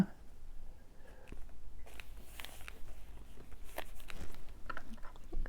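Soft, steady patter of rain with scattered drips and small taps, fairly close, with no talking.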